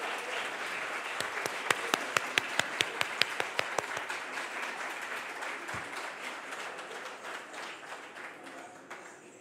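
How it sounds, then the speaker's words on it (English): At a literary awards ceremony, audience applause starts with distinct sharp claps and thickens into a dense, steady ovation that slowly fades, moderately far off with no speech over it. "Can we have a huge round of applause for our jury?"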